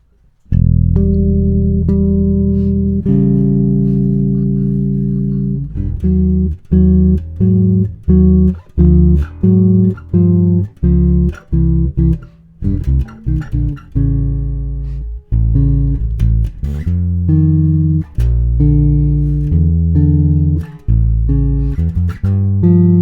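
Electric bass plays a sequence of ringing chords and notes in tenths and harmonics, some sustained and some short and plucked, close and fairly loud with no talking.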